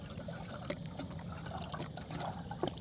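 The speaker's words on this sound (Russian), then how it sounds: "Наливаешь абсолютно без проблем водичку сюда." Water poured into a small kettle on a compact camping stove, a faint close trickle and gurgle lasting a few seconds with light splashes and a couple of clinks, no speech.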